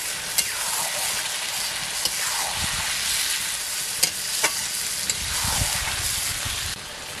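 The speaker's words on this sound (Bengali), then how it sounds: "ভালো করে নাড়াচাড়া দিয়ে দিয়েছি," Egg chicken masala sizzles steadily in a pan while a spoon stirs and scrapes it in repeated strokes, close and continuous.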